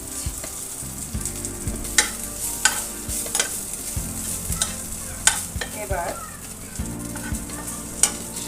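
Ginger paste frying in a pan over a low flame for a Bengali greens and jackfruit-seed stir-fry, a soft steady sizzle broken by repeated sharp clinks and scrapes of a spoon stirring against the pan.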